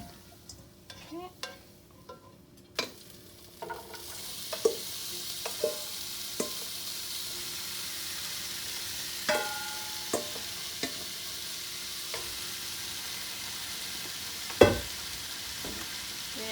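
Pork stir-frying in a pan with orange juice, ginger and bok choy, with a few soft knocks and clinks at first, then a steady sizzle and hiss. Irregular utensil taps and scrapes sound throughout, with one louder clank near the end, close by and with no talking.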